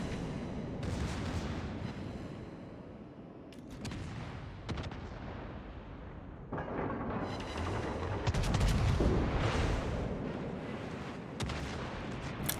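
World of Warships battleship Iwami firing its main and secondary guns in a close-range duel with a Fletcher destroyer: dense, continuous booming gunfire with repeated heavy blasts and rolling rumble, loud throughout with no speech.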